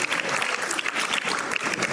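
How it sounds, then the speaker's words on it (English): Dinner audience at the 2017 IACF Unity Dinner at ICC in Milpitas breaks into steady, dense applause, many hands clapping together at close range with no pauses. "let's give a round of applause for Jeevan and for Dr. Besh and for our wonderful entertainers."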